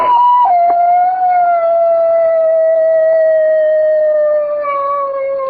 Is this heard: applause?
no